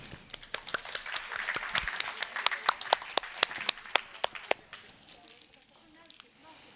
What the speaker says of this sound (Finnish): Aplodit vielä kaikille.